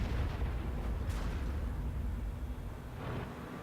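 Tank cannon fire during a World of Tanks battle at a ridge: a sustained deep rumbling boom with a sharp crack near the one-second mark and another swell near the end, loud and with no talk.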